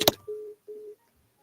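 A telephone gives a sharp click followed by two short, steady electronic beeps separated by a brief gap, then silence.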